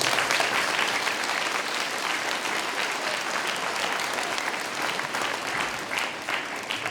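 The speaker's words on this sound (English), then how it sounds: "Let's give these fellow students a round of applause" A school Veterans Day assembly audience applauds for nearly seven seconds: dense, even clapping from many hands, loud and continuous throughout, with no one speaking over it.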